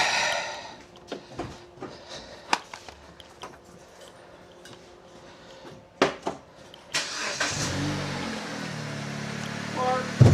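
Clicks and cranking sounds lead up to a 2012 Dodge Avenger engine catching and starting after new spark plugs and coils, settling into a steady rumbling idle, with faint voices in the background.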